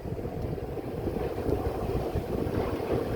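Steady wind roars across the microphone along a rural country road leading to a forest temple, a continuous low rushing blow that stays loud and unbroken throughout, with no one speaking.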